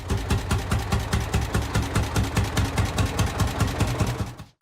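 Antique Lanz Bulldog tractor engine chugging in a steady, even puffing rhythm of loud low thumps, running alone until it cuts off abruptly at the end.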